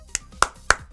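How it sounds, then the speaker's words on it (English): Sharp hand claps, three crisp strikes at a steady pace and a fourth at the very end, close and dry with no talk over them. "I'm doing a clap right there"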